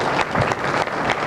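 Audience applause at an annual co-op banquet as the Assistant Superintendent is called up, a dense, steady burst of many hands clapping close by with no talk over it.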